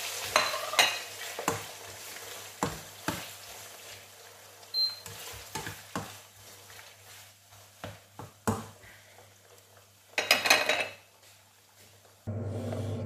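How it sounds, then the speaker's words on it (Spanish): Meat frying in a pan for a rice dish with pork and chorizo, stirred with a utensil that scrapes and knocks irregularly over a soft sizzle, close and alone. "freír carne"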